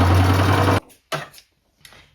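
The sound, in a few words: sewing machine attaching a sleeve to a thrifted dress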